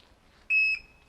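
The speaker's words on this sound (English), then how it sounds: "The alarm works." A single short electronic car alarm beep from a Toyota Soarer SC300 sounds sharply, a steady high tone lasting about a quarter second in an otherwise quiet setting.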